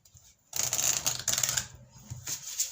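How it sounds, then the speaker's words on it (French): Oracle cards from an archangel Michael deck are shuffled close up, giving a dense, papery riffling rustle that starts suddenly and runs in a few quick bursts, with no speech over it. "je vais vous tirer une carte de l'archange Michael"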